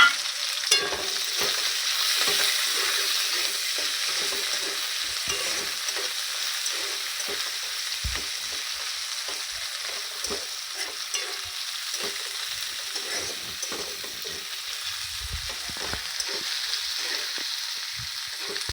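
Chopped ginger, garlic and green chili, added with a cardamom pod for a meat curry, sizzle and fry steadily in a pan, a continuous close hiss with occasional soft stirring clicks and no talking.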